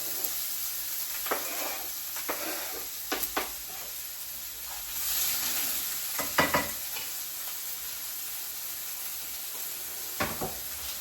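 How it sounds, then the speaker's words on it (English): Sausages brown in a skillet with a soft steady sizzle under a constant high whine, broken now and then by louder bursts of spattering and a few clanks of handling. "I'm going to take these over and put them in my skillet"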